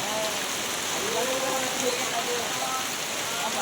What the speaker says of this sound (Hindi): बहुत वर्षा होती है